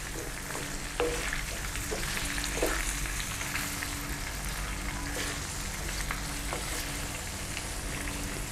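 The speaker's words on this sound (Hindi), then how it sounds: "आलू गोभी को थोड़ा फ्राई करेंगे।" Potatoes and cauliflower fry with panch phoron spices, giving a dense, even crackling sizzle throughout, with occasional soft stirring clicks and no talking.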